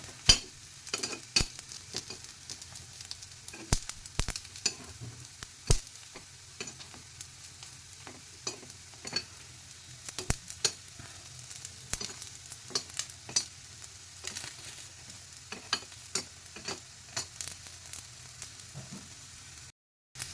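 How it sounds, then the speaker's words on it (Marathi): Fasting-style appe fry in a hot appe pan, each dumpling turned on all sides to brown; a soft, steady sizzle runs beneath frequent sharp metallic clicks and taps for about twenty seconds, with no voices. "ज्या साईडनं भाजलं नसेल त्या साईडनं परत फिरून फिरून भाजायचं"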